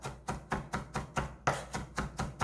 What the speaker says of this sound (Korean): 이런 식으로 모아가면서 아주 곱게 다져주세요